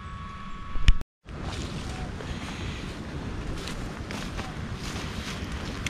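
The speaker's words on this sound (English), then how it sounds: "It's starting to rain and it's getting pretty windy." Steady wind rushes and buffets outdoors at a campsite as rain begins, after a brief clatter and a short cut, a constant noisy roar with occasional gusts.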